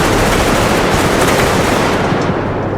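Sustained automatic gunfire from the SG9X weapon in the video game Bodycam rattles loudly and continuously, a dense rapid burst of shots with no voices.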